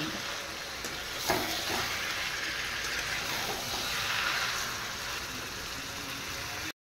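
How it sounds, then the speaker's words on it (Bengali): Chicken coated in ground cumin, coriander, chili and turmeric is sautéed in a pan, producing a loud, continuous hissing sizzle with a brief clatter of stirring early on. "এইবার চিকেন ভালো করে কষিয়ে নেব"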